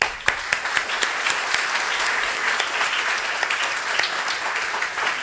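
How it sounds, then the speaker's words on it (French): Sustained applause from a crowd gathered at the outdoor inauguration of a town square, dense and steady with a few sharper claps standing out, fairly close and filling the whole stretch with no talking. "Il faut l'applaudir."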